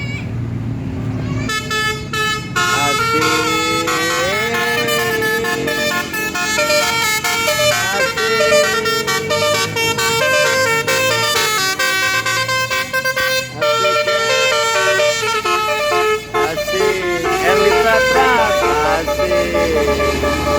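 A telolet musical bus horn plays a Basuri melody, loud bright tooting notes in quick runs that go on without a break near a tunnel road, with brief shouting at the start.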